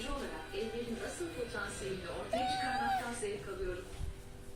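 A Van cat meows in several drawn-out, wavering cries, fairly close, mixed with a person speaking softly nearby.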